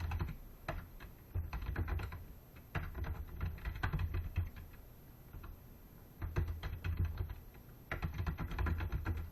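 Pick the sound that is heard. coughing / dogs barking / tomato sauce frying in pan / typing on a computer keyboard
typing on a computer keyboard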